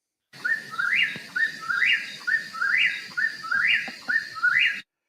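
Calls of a chuck-will's-widow and a whip-poor-will sound as a clear, close whistled phrase repeated five times in a regular rhythm, each rising to a sharp peak, with no talking over it.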